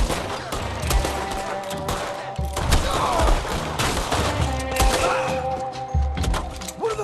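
Rapid gunfire crackles through a Red Dead Redemption 2 shootout, dense overlapping shots and thuds in an ongoing fusillade, with voices briefly heard underneath.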